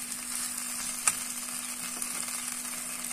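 Ginger, garlic and green chilli paste with tomatoes sizzles steadily in hot oil with onions for a bhindi masala, a continuous close frying hiss with one brief clatter.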